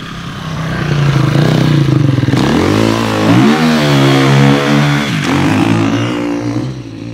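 Motocross motorcycle ridden on sand, its engine loud and close as the throttle is revved hard, the pitch sweeping up and down through several surges over a continuous roar.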